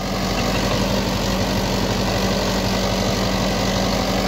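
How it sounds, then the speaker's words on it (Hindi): A Mahindra 585 tractor engine runs steadily in a sugarcane field, a continuous low, rumbling drone with an even, unbroken tone throughout and no voices. "अपना महिंद्रा 585 चला रहा है।"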